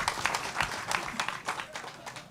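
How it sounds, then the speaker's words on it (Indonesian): Audience at a Sinau Bareng Cak Nun gathering breaks into a short burst of applause, a dense patter of many hands clapping at moderate distance and fading within a couple of seconds. "Sip, tepuk tangan."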